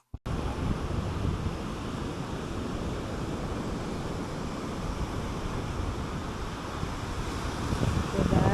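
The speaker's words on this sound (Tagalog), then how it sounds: "So, ito, ito na yung dagat." Constant roar of wind and sea surf on the coast at Real, Quezon, broadband and unbroken, with heavy wind buffeting on the microphone and no clear individual wave breaks.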